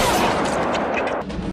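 Dense, loud burst of rapid gunfire in an action film lasting over a second, sharp cracks overlapping into a continuous volley before cutting off abruptly.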